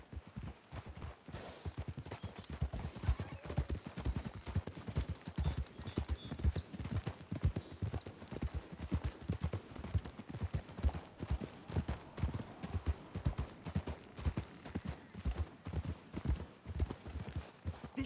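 Horse hooves clip-clop steadily in Red Dead Redemption 2 as several horses walk along, a close, even rhythmic clatter that runs throughout, with a brief whinny-like sound early on.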